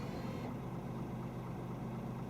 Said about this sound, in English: is it always just ticking over like this, or does it sound a bit rough?